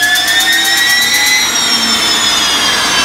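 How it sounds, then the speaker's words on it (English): A jet-powered motorbike's turbine spins up, a loud, close, high-pitched whine that climbs steadily in pitch over a rumbling roar, with no voices. "That's the turbine spinning up, Noah."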